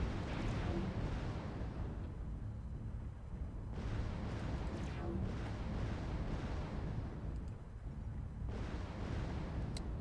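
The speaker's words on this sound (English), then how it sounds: "I'm going to keep hitting him with missiles" LRM missile volleys are fired at an enemy mech in MechWarrior Online, with a dense, continuous roar of launches and explosions that swells in repeated waves across the clip. The sound is rumbling and broadband, with no talking.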